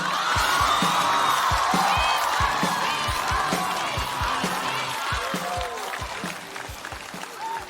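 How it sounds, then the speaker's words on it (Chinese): A theatre audience at a stand-up comedy show breaks into sustained applause with scattered whoops to welcome the last comedian onstage, loud and steady throughout with rhythmic clapping, fading slightly toward the end. "掌声有请"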